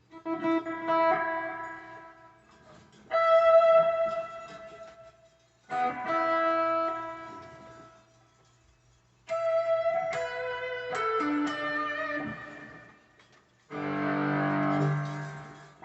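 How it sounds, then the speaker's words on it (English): Distorted electric guitar plays bursts of sustained, gritty chords separated by brief pauses, ending on a denser, noisier strum. "a little more distortion kicks in"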